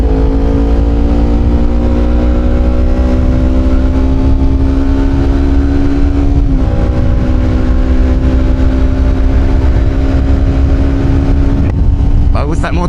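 Kawasaki Ninja 250 with an Akrapovic slip-on exhaust cruising on a ride, a loud, steady droning engine note with slowly rising pitch and a brief shift around the middle, heavy wind rumble underneath.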